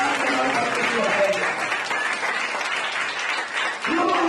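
Worshippers at a church service clap in a sustained burst of applause, mixed with loud voices calling out over the clapping before a brief dip near the end.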